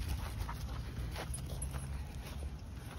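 Labrador Retrievers panting outdoors during an off-leash walk in an empty open area, a steady breathy rasp blended with constant outdoor background noise, no one talking.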